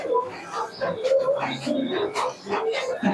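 Giribaz pigeons in a pigeon shop coo in soft, repeated low calls close by, mixed with other bird chatter and some background voices.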